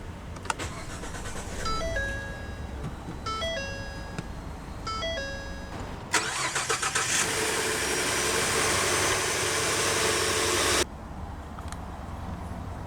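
Electronic chimes beep in a repeating pattern, then the 3.5-liter EcoBoost V6 of a 2015 Ford F-150 Lariat cranks, catches and revs before settling into a steady, smooth idle.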